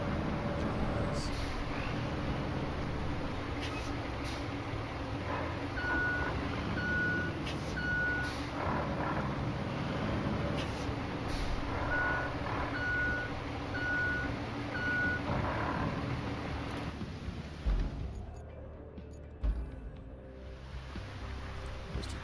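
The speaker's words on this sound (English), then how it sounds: "There's the cargo truck." A cargo truck reversing in the RoadCraft road-building game: a steady engine drone under two runs of evenly spaced reverse-warning beeps, with a hiss of air near the end.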